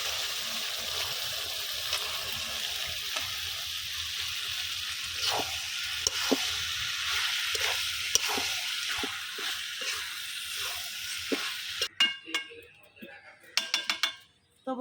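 Beef tripe dropped into spiced oil over a wood-fired stove, sizzling steadily with scattered clinks and stirring knocks from a pot, close by, ending with a few sharp metallic taps.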